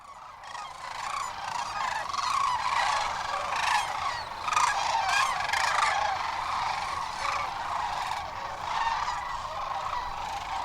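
Flock of sandhill cranes migrating from the Texas Gulf Coast toward Alaska and Siberia, calling continuously while resting on a gravel bar; dense overlapping rattling calls from many birds, steady and fairly close, without talk.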